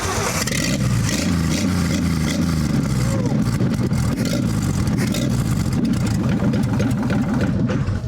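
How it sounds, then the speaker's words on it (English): A rebuilt six-cylinder engine in a flood-damaged 1960 Ford F100, test-fired with no exhaust fitted, runs loud and rough with a raw, uneven chugging throughout, while people talk over it. "we want to test fire this thing to make sure that we got a good engine"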